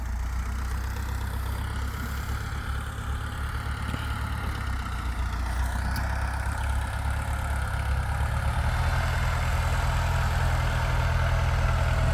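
A Kubota L2602DT tractor's four-cylinder diesel engine idling, a steady low rumble holding close and even throughout, with no talk.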